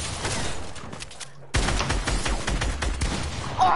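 Rapid bursts of dragon's breath shotgun fire in a video game, a loud volley of sharp blasts that breaks off for a moment and then resumes in a heavier, closely spaced barrage.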